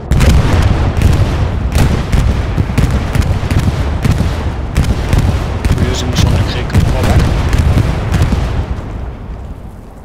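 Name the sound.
friendly bombing run explosions in Hell Let Loose video game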